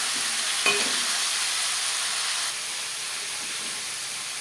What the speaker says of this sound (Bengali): মাথা একইভাবে ভেজে নেব